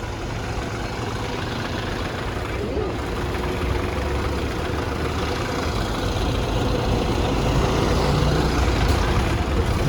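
A Sydney bus on route 549 to Epping idles at Parramatta, its heavy diesel rumble steady and close for the whole stretch, with faint voices in the background.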